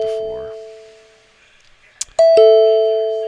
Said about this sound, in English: Lots of doorbells ringing.